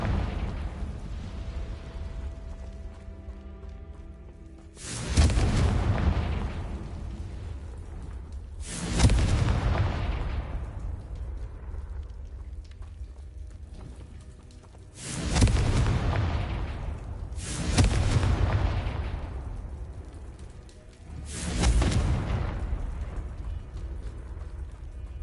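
Five deep, booming fire-spell explosions from the Confringo spell in the video game Hogwarts Legacy. Each one is loud and close and rumbles away slowly, spaced several seconds apart.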